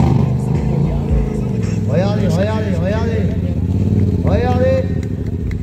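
Stunt motorcycle weighing close to 200 kg idles steadily through an acrobatic show in St Brieuc, a loud, constant engine drone under an excited commentator speaking French.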